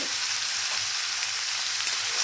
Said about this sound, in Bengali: তেল গরম হয়ে গিয়েছে, তাই এখন আমি সেদ্ধ করে রাখা এঁচোড় আর আলুগুলোকে এর মধ্যে দিয়ে দিচ্ছি।